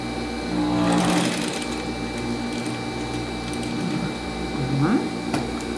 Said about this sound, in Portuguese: vou passar aquelas 2 costuras